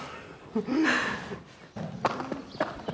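A horse walks during an equine therapy session at a school, its hooves clip-clopping in a few uneven steps at close range, with faint background noise.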